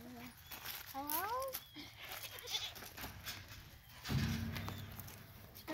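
Goats bleat a few times in short wavering cries, with people talking nearby amid outdoor farmyard noise.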